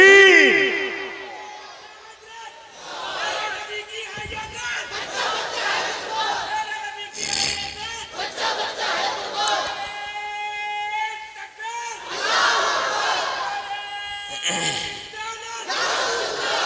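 Crowd at a religious gathering shouting slogans in unison in response to a Nara-e-Takbir call, loud repeated chanting bursts with cheering across the whole stretch, swelling and falling in waves.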